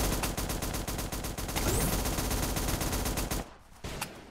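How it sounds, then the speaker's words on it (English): Gunfire from a sniper in the Zombs Royale video game rattles as a steady, rapid string of evenly spaced shots, loud and constant for over three seconds before cutting off, with a lone later crack. "And his bullets are just whizzing past my ears"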